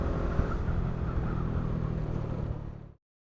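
A motor tricycle on a road in the Philippines heading toward Mount Pulag, with a close, steady engine rumble and drone that holds level and then cuts off abruptly.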